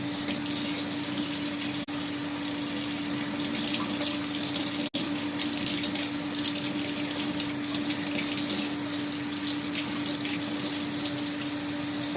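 Tap water runs steadily into a sink for several seconds, a continuous close hiss with a faint hum beneath it, broken only by a couple of brief clicks.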